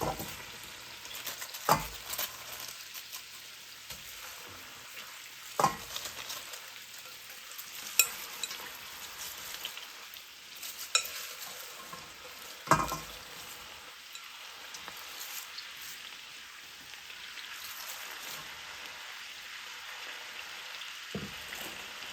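Cabbage going into a hot pan sets off a steady, soft sizzle that runs throughout, broken by a few sharp clinks and stirring knocks, with no voices.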